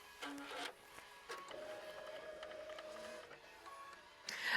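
An embroidery machine runs the quilting step of a quilt block, giving a steady mechanical whir with a constant tone, a few brief pauses and bursts, heard close and alone with no talk.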